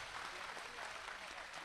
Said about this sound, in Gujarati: બધાના હાથ તાળીઓના ગડગડાટથી આમ આખા મંડપમાં છવાઈ જવા જોઈએ